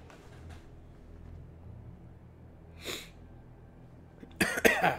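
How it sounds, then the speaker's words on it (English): Someone coughs with a harsh, gagging burst near the end, after a quiet stretch with a faint breathy sound in the middle. "Cough, cough, gag."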